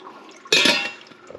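Water in a kitchen UV water filter, heard as a sudden splashing gush that starts partway through, then fades into a soft trickling drip against a quiet room.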